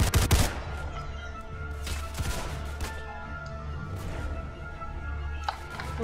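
Machine gun fire in the war video game Entrenched, with a sharp rapid burst at the start followed by scattered, more distant shots and crashes over a continuous battle rumble.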